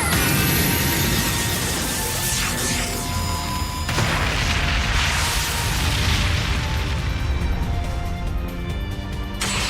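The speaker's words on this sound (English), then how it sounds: "Selecting cannon. Fire." Booming cannon blasts and crashing, whooshing effects from the video game Trails of Cold Steel II fill the stretch loudly, with sweeping tones and mechanical noises, no voices.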